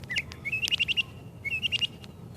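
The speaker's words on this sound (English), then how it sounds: "He's making really amazing sounds, man." A wild bird somewhere in the USA sings two bright, rising chirping phrases, each made of quick rapid notes, loud and near against quiet outdoor background hum.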